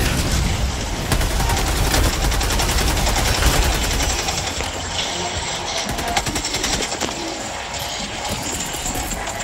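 Rapid automatic gunfire in Helldivers, a loud stream of close shots with a rumbling engine-like bed underneath, easing slightly partway through.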